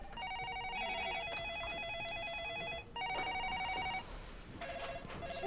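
Telephone ringing with a repeating electronic warbling trill in close bursts, briefly pausing and resuming, heard over a busy background with no clear speech.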